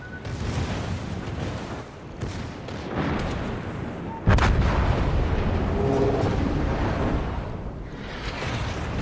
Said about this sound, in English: The Satsuma hit me with a main battery shell.